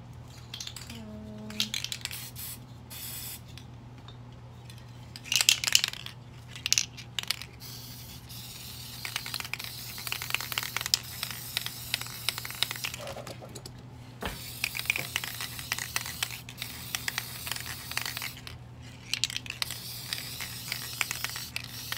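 Multicolor spray paint hisses onto a tray in several bursts of varying length, close and moderately loud, with brief pauses and light clatter between sprays.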